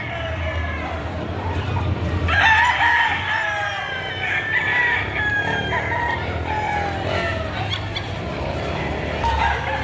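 Roosters crow and chickens cluck loudly in a busy poultry market yard in Padre Garcia, Batangas, with people talking and a crowd murmuring in the background.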